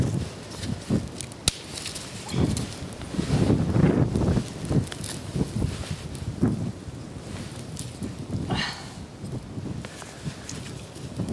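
Gusty outdoor wind buffets the microphone with broadband rumble and whoosh, loud and continuous throughout, while a campfire is being lit for a Zebra billy can.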